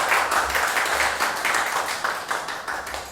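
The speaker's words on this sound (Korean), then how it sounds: "큰 박수로 맞이해 주시기 바랍니다." Audience applause at a conference session welcoming the panel speakers, with a few seconds of dense, fairly soft clapping in a hall.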